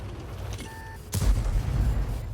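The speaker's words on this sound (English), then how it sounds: "Unfortunately, the KV2 is going to get a shot at him." A KV-2 tank's main gun fires in a tank video game, one heavy close boom that follows a short tonal beep and rolls into a lingering low rumble.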